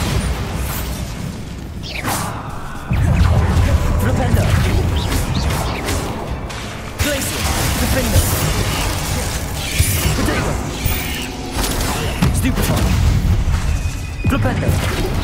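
The Bombarda explosion spell in Hogwarts Legacy sets off loud booming blasts with crashing debris and mechanical rattles, mixed with whooshes, game combat noise and voices.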